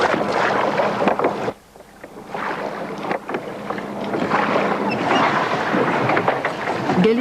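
An ancient-style galley under oars and sail at sea off Villefranche-sur-Mer, with rushing water and wind buffeting the microphone, one short lull, then a steady close wash of sea and boat noise.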